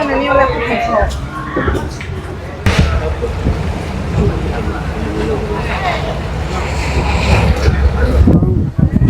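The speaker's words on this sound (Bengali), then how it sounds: "আমাদের লং টেল বোট চলে আসছে।" A long-tail boat approaches at Phuket, its engine a low, rough rumble under heavy wind buffeting and splashing, while people talk close by.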